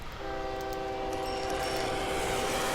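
A rail vehicle in the transport game OpenTTD gives a sustained multi-tone horn over a steady rolling rumble, loud and continuous, with no voices.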